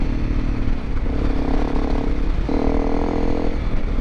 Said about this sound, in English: It's got pretty decent engine braking to really slow you down.